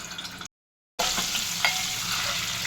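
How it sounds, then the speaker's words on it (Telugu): Boiled eggs frying in oil in a pan for tomato egg curry, a steady close sizzle with small stirring knocks, interrupted by a brief half-second gap of silence before the frying resumes. "వీటిని కొంచెం ఆయిల్లో ఫ్రై"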